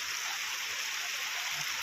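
Floodwater rushing into a farm field makes a steady, broad hiss of flowing water, loud and continuous throughout, with no voices over it.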